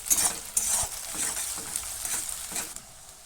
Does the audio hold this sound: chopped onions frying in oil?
yes